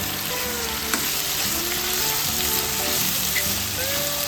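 Finely chopped tomatoes frying in a pan for an Andhra-style potato tomato curry, a dense continuous sizzle with crackling bursts and occasional stirring scrapes, close and loud.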